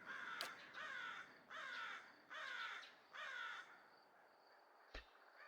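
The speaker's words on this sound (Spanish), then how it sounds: "Se escucha un cuervo, ¿eh?" Crow cawing in the fantasy role-playing game Pillars of Eternity: four drawn-out, harsh caws in a steady rhythm over a soft ambient bed, followed by a sharp click near the end.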